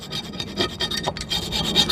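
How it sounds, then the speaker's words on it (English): An old metal putty knife scrapes stuck grass off a lawn mower blade, making a steady run of rough, close rasping strokes with no talking. "I use a putty knife, a metal putty knife. It's an old one, and I get off all the grass that's stuck to it."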